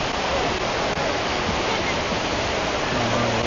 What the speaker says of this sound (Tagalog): Ayan yung running water.